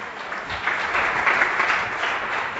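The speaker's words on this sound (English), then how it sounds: "Big round of applause for him." A room of attendees at a business talk on employee rewards claps steadily and fairly loudly for a colleague, the dense patter holding even for a few seconds with no voices over it.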